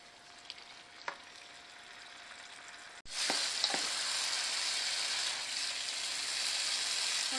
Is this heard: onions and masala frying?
yes